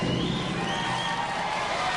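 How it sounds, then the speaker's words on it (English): A studio audience at Robot Wars applauds and cheers in a dense, continuous roar of clapping that fills the whole moment without a break. "They applaud"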